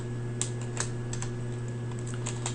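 Keys tapped on a computer keyboard while entering code for an ROC curve analysis in R: sparse, light clicks at an irregular pace, close and fairly quiet over a steady low electrical hum, with no voice.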